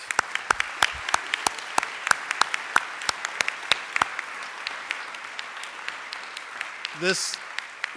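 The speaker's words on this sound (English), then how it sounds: "So please, let's give them a round of applause." A round of applause at an awards event: scattered, individual claps ring out sharply and thin out over several seconds, with a brief voice near the end.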